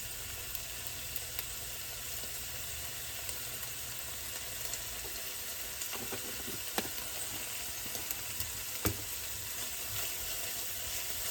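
Cumin toasting in a pan for a homemade Hamburger Helper, a steady soft sizzle and hiss running throughout with a few faint stirring clicks, quiet and close with no talking.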